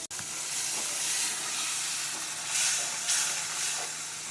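Gravy for cauliflower curry sautéing in oil, a steady close hissing sizzle with a few swelling bursts, fairly quiet and alone.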